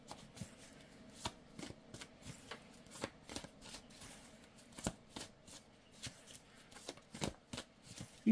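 Tarot cards are shuffled in quick, crisp bursts, a soft riffling and slapping repeating over and over, close and fairly quiet.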